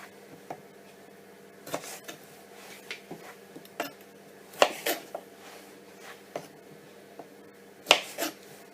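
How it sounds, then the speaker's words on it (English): Tomatoes are sliced in half with a knife, giving a series of soft, close cutting clicks and taps against a board, irregularly spaced with a couple of sharper knocks. "And then finally we've got the tomatoes. I'm just going to slice those in half."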